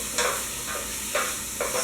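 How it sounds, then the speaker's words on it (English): Onions sweating in a pot for broccoli soup, stirred in four soft scraping strokes over a gentle, steady sizzle, heard close with no speech. "This is called sweating when you cook without browning."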